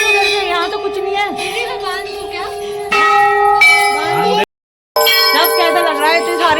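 Many temple bells ring at the Golu Devta temple, clanging and overlapping in a dense metallic chorus with bright, lingering tones. The ringing is broken by one brief gap of silence.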